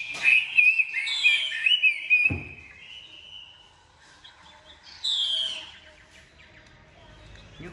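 A Chinese hwamei songbird sings in bright whistled phrases and rapid chirps, loud and close at the start, then sparser, with a louder burst around the middle before fading.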